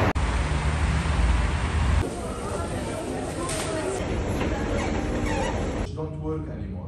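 A metro train rumbles past nearby with steady low roar and rattling, then the noise cuts away and fades near the end.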